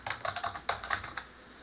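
A heading is typed on a computer keyboard, two short bursts of crisp, close keystrokes separated by a brief pause, then silence.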